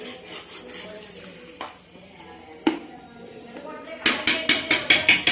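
Chicken pieces for biryani being stirred in a pot, with soft scraping and a faint sizzle, a few sharp knocks, then a quick series of rhythmic metallic scrapes near the end; someone speaks briefly.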